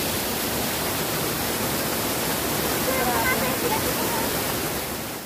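Flowing water at an outdoor bathing spot on Kau Sai Chau island, Hong Kong, a dense steady rushing roar like a small waterfall, loud and close, with faint voices beneath.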